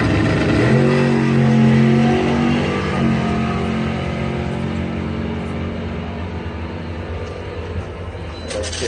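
A Mustang doorslammer drag car from Mid-Michigan Transmission roars down the strip at a drag race, loud and close, its engine note starting strong and then fading as the car pulls away.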